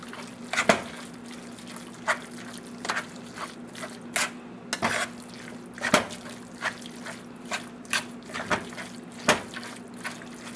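Seasoned ground meat for spaghetti being stirred in a pan, a series of soft, irregular wet squishes and scrapes spaced about a second apart, close and fairly quiet over a steady low hum.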